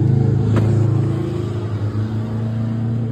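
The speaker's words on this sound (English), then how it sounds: "you can probably hear the street noise." Street traffic heard from beside a parked truck, a loud, steady low engine rumble of passing vehicles with a droning hum that swells and fades slightly.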